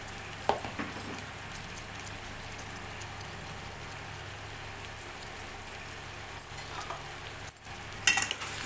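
Potato and brinjal curry with salt and turmeric being stirred in a pan, a soft, steady scraping and gentle sizzle with a few faint clinks of the spoon.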